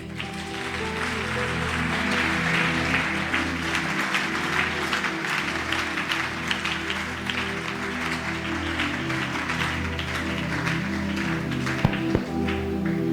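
A church congregation applauding the Lord, with sustained dense clapping over a steady organ or keyboard drone, loud and continuous throughout with a couple of sharp knocks near the end.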